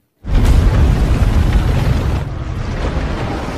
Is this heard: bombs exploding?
yes